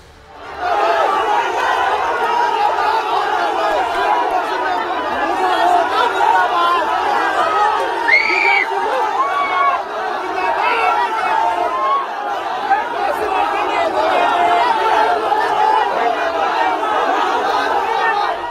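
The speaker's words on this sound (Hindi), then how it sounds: "इसी दौरान भीड़ ने रास्ता रोका और नारेबाजी की" An agitated village crowd blocks a road during an election in Lakhisarai and shouts slogans at a politician's vehicle convoy. Many voices overlap in a dense, loud roar of shouting and chatter that holds for the whole stretch.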